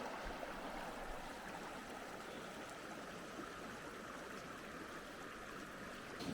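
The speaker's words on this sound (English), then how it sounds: "I've got a babbling creek next to the campsite" Babbling creek beside a campsite, a steady, faint rush and trickle of flowing water that continues evenly throughout with no voices.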